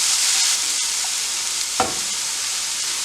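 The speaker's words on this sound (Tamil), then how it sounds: "மெல்லிய ஹீட்டில் விட்டுட்டு வெங்காயத்தை வதக்குங்க" Onions sautéing on low heat in a pan for beetroot varai, a soft continuous sizzle with a few stirring scrapes and clicks, close and steady with no talk.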